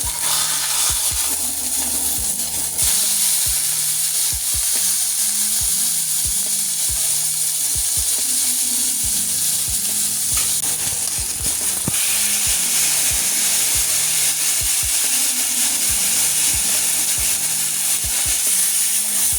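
A cheap steak frying in a pan with a continuous loud sizzle and hiss, broken by occasional taps and scrapes, with no talking.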